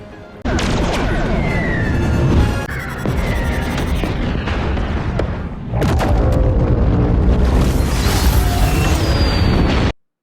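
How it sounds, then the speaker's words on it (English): Photon torpedoes explode in a Star Trek Strange New Worlds space battle: heavy booming blasts and crashing rumbles swell loudly over roughly ten seconds, with whooshing sweeps between impacts, then cut off abruptly. "You just launched 3 photon torpedoes and the whole thing blew up?"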